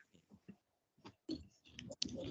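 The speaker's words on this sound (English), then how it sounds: "I was very furiously typing" Fast bursts of keyboard clicking, close and fairly faint, in uneven clusters with brief pauses between flurries, alone with no talking.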